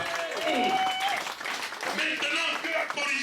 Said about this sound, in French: Est-ce que quelqu'un peut applaudir?